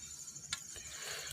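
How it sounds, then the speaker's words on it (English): A cricket chirps outdoors, a steady high-pitched trill running throughout, fairly faint, with a few brief soft rustles and knocks nearby. "But caught me a cricket."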